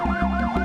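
An ambulance siren wails in a rapid up-and-down sweep, close and loud over the low drone of the moving vehicle, a short burst with no voices.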